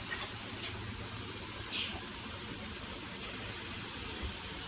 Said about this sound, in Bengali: দেখুন জল দিয়ে দিল, মশলা ধোয়ার জলটা